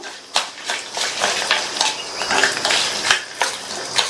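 Dried red chillies, green chillies and ridge gourd roast in a pan while a spatula scrapes and clinks against the metal in an irregular, close rhythm over a light sizzle.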